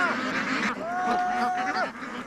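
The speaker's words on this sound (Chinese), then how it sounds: "稻田旁边的水塘里活跃着另外一种水生的家禽——鸭子" Brown-feathered shelducks in a pond beside a harvested rice paddy, giving nasal quacks and one drawn-out honking call, close and clear over low background noise.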